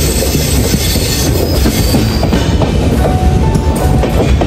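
A train rolls steadily along rails on a journey toward Agra, a loud continuous rumble with rhythmic wheel clatter and a faint squeal of wheels, with no talk over it.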